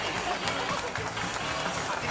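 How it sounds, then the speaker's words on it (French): A large outdoor crowd of tens of thousands applauds an aircraft passing at a D-Day commemoration at La Fière, a dense, steady wash of clapping heard at a distance, with a voice talking over it. "applaudissements s'il vous plaît pour l'avion et les encourager sur le site de la Fière"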